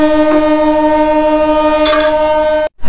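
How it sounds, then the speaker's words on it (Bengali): From inside a general coach, a train pulls out of platform 12 with a loud, sustained horn tone over a low rumble, cutting off abruptly near the end. "ঘড়িতে ঠিক 10টা 5 বাজার সাথে সাথে ট্রেন ছেড়ে দিল 12 নম্বর প্ল্যাটফর্ম থেকে।"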